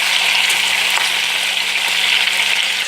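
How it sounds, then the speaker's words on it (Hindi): Chicken frying in hot oil, for degi chicken cooked in a clay pot, gives a loud, dense, continuous sizzle close up, steady throughout with no voices. "ऑयल में मुर्गी फ्राई हो रही है।"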